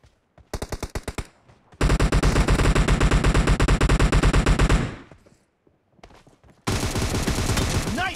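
Loud automatic weapon fire from a PUBG team deathmatch game: short rattling bursts, then a long sustained volley, a pause with scattered shots, and another sustained burst.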